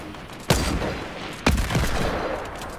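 Two loud, close bursts of gunfire in the Fortnite video game, each a sharp blast with a ringing tail, about a second apart, over a dense game background.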